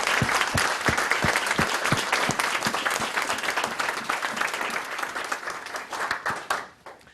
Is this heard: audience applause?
yes